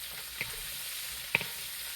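Peppers and onions hiss in hot oil in a wok, a steady broad sizzle held at an even level, with two faint clinks near the start and end.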